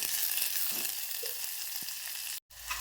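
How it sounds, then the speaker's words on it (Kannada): Onions frying in a pan, a steady close sizzle with faint stirring, briefly cut off near the end, no voices. "ಉಳ್ಳಾಗಡ್ಡಿ ಒಂದು ಸ್ವಲ್ಪ ಫ್ರೈ ಮಾಡ್ಕೋಬೇಕು"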